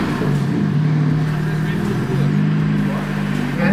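A BMW F80 M3 engine fires up and settles into a loud, close, throaty idle with a slight rev, steady rumble throughout the short stretch.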